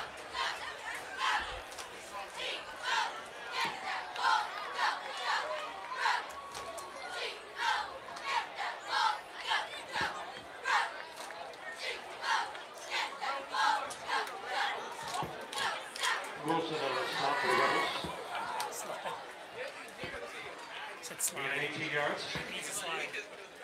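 Home crowd in the stands at Harry E. Winters Stadium during a high school varsity football game, Shaker versus Willoughby South, a steady murmur of cheering and chatter with a louder swell of shouting near the end, under announcer talk.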